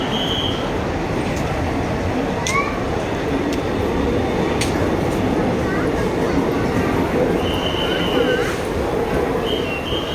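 Ayodhya express from Mumbai CSMT arriving at Kalyan station, a steady low rumble of rolling carriages with faint squeals and tones over the platform din, continuous throughout.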